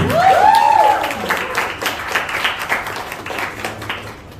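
Applause and clapping from an audience at a school intern felicitation event, loudest at first and then thinning into scattered, uneven claps, with a brief tonal sweep near the start.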